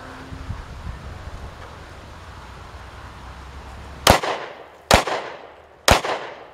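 Three sharp, loud gunshots from a Glock 27 pistol chambered in .40 S&W, fired outdoors at a target about ten yards away, each spaced roughly a second apart with a short ringing decay, following a stretch of quiet wind noise.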